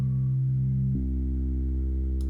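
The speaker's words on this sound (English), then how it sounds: "that is a sine wave, that's a sine wave, but they're interfering with each other, frequency modulation." Interfering sine waves in frequency modulation synthesis sound as steady, sustained electronic tones that shift in pitch partway through, a clean continuous drone with no voices.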